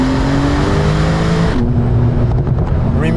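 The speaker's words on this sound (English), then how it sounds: "remarkable when the turbo comes in." A Techart GTstreet R tuned sports car accelerates hard with a loud, close engine note that climbs in pitch, then drops abruptly at a gear change before climbing again, with a brief rushing surge of boost.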